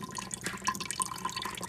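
Blended carrot pulp for juice is poured into a strainer, making a wet, dripping trickle that runs steadily and close for under two seconds.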